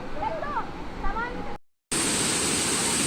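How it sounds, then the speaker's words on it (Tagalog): A waterfall at a river swimming spot crowded with bathers roars as a loud, steady rush of close white noise. A voice speaks over the first half, then the sound briefly cuts out and resumes. "Yan, yung falls. Ang ganda ng falls."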